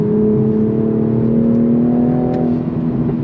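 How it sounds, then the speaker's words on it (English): Toyota Supra Mk5 engine revs steadily and loudly from inside the car on track while braking into a corner, a continuous rising drone with smooth shifts as the car slows. "Smooth downshifts."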